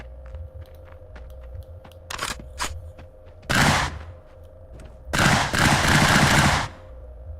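A P90 fires in the FPS X8 VR shooter, with short, sharp rapid-fire bursts and single cracks over a low hum, then two longer loud bursts.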